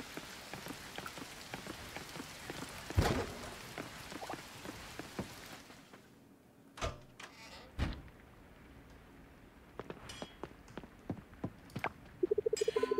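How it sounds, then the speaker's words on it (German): Steady rain falls outside in the farming game Coral Island, a soft patter of drops with scattered sharper taps that thins partway through, leaving quieter ticks and a few clicks. "Es regnet draußen stark"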